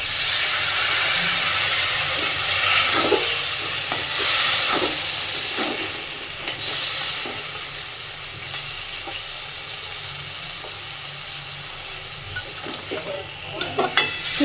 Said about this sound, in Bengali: সুন্দর করে একটু কষে দেব।